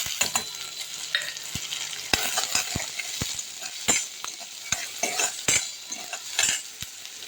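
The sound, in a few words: onion frying in oil with cumin, mustard, chillies, curry leaves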